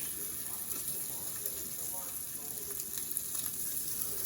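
Sausage and bacon sizzle steadily on a 17-inch Blackstone griddle, a continuous close hiss with faint crackles and no pauses.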